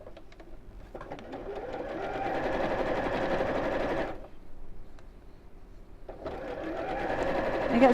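A sewing machine runs in a steady whirring burst stitching cushion cover pieces together down the centre seam, stops briefly, then starts again, close and clear.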